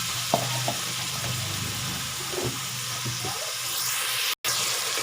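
Onions frying in about half a cup of ghee, a steady broad sizzle with soft stirring scrapes across the pan, close and continuous, briefly cutting out near the end.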